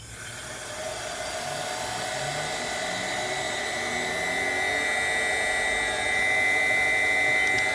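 An electric motor fed by a Mitsubishi FR-A800 drive at 50 hertz spins up and runs with a steady, smooth whirring hum that rises slightly in pitch and stays constant, heard alone with no talking.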